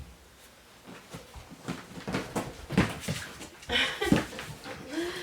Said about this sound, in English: This dog is being wild today.